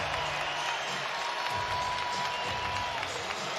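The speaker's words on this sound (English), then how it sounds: "And the crowd on its feet here at T-Mobile Park." A large crowd at T-Mobile Park during the 2023 Home Run Derby roars and applauds in a dense, sustained wash of noise from many people, with a faint steady tone beneath it.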